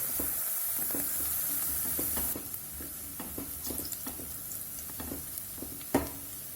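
Onions stirred in a hot pan for a spicy masoor dal khichdi, a steady sizzle with scattered scraping stirs, the frying hiss dropping slightly partway through.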